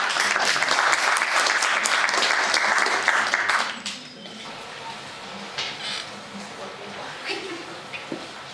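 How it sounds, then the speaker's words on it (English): Audience applause fills a film festival hall as a filmmaker is welcomed to the stage, a dense loud clapping for about four seconds before it drops away to quieter room noise and scattered sounds. "Let's give him some applause,"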